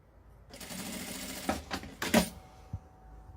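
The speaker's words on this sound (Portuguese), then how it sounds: "E eu vou costurar ele dessa forma, esticadinho." A sewing machine stitches fabric with elastic stretched taut, running in a steady whir for about a second and a half before a few quicker, louder bursts near the end; nearby and without any talking.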